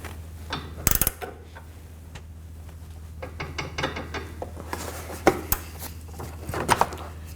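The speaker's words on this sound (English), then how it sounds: "put your wrench on, put your Allen bit back, and snug it down and do a quarter turn" Scattered metallic clicks and clinks as a wrench and Allen bit snug down a sway bar link fastener on a 2020s Toyota Corolla, with faint irregular taps, a few sharper knocks and no voices.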